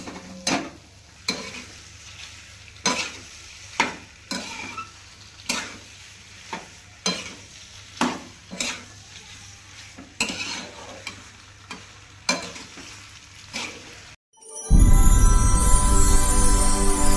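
A spoon stirs and sautés vegetables with Maggi masala in a pan, making regular scraping strokes about once a second over a faint hum, then a sudden loud, sustained burst of different sound closes the stretch.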